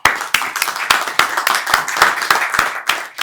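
An audience in the House of Lords claps to welcome a Member of Parliament at a reparations conference launch, a dense patter of applause with several sharp, close individual claps standing out, no voices.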